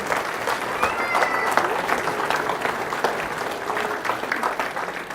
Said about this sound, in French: Je crois qu'on peut les applaudir encore parce que vraiment le travail qu'ils font.